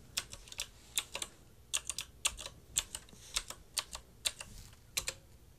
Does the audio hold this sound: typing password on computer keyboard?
yes